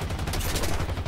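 Aircraft cannons fire in a War Thunder air battle: a loud, continuous rapid burst of heavy gunfire that fills the moment with no talking over it.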